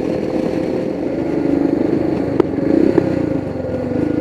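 Engine of a heavily modified Royal Enfield Himalayan dirt bike running steadily nearby, a low throbbing idle that swells slightly with a couple of sharp clacks.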